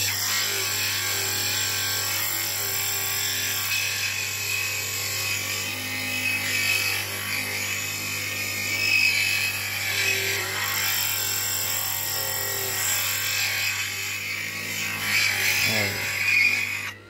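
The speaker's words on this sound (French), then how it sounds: "Est-ce que c'est suffisant comme ponçage" An aluminium part from a Yamaha XT125X motorcycle being sanded with a power tool, giving a continuous close whirring buzz that shifts slightly in pitch throughout, with no talk over it.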